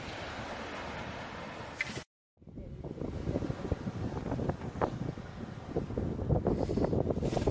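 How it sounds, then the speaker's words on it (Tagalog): Wind gusts across a microphone by the sea during a fishing outing, a rough, blustery rush with a brief dropout, then steady buffeting and faint surf-like noise, with no speech. "It's like windy, isn't it?"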